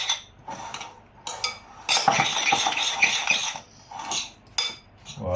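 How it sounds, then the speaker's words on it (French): A spoon stirs a tuna rillette mixture seasoned with Tabasco in a bowl, giving close clinking and scraping strokes in several bursts with short pauses between them. "On va mélanger tout doucement."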